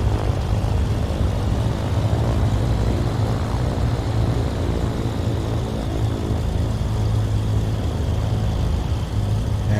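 A FlySimWare C414AW Chancellor twin-engine aircraft taxiing in Microsoft Flight Simulator, with a loud continuous propeller-engine drone and steady hum that holds at the same level throughout.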